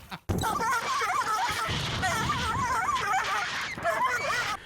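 A dog whimpers and yips with a high, wavering whine, repeated cries over steady noise, with brief barks or yelps near and loud throughout.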